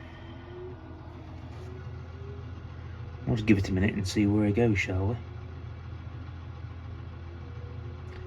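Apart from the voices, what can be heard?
Massey Ferguson tractor engine idling with trailer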